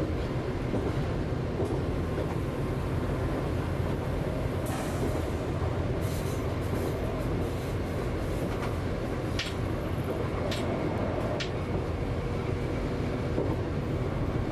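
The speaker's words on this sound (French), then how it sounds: "Et on accélère plein pot pour essayer d'attraper le 110 km/h avant la gare de Massiac" Train accelerating hard on the line toward Massiac station, a loud continuous rumble and roar with wheel and rail noise and occasional brief high squeals, steady throughout.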